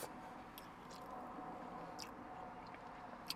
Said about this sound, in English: I'm still chewing that pork chop.